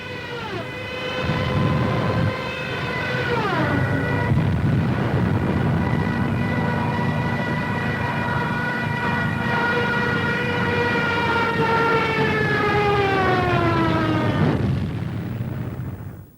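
A WW2 Stuka dive bomber attack rendered as film sound effects: a loud, sustained wailing siren-like tone that sweeps and slides in pitch over a roaring engine rumble, lasting throughout with a brief dip partway.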